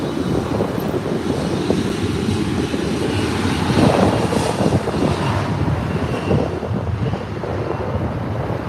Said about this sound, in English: Rolling takeoff.